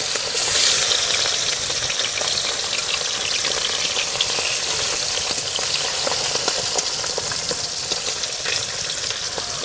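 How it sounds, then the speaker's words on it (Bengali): Bata fish frying in a pan of hot oil, giving a loud, steady, close-up sizzle that crackles without pause throughout. "এক এক করে দিয়ে ভেজে নেবো মাছগুলো"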